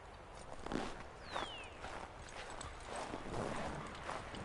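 Horse hooves clip-clop at a steady walking rhythm in a cold outdoor scene in Assassin's Creed III Remastered, close and clear over a soft ambient bed with no voices.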